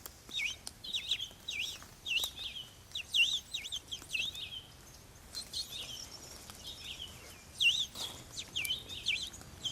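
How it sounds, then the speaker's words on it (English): Goldfinches singing outdoors in a series of bright, twittering chirps and short warbles, moderately close and repeating throughout without talk. "I can hear the goldfinches singing."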